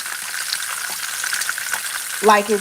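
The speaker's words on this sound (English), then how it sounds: "now I am going to turn it down just a little bit because now it's frying" Steady crackling sizzle of Haitian boulèt frying in a pan, with a brief bit of speech near the end.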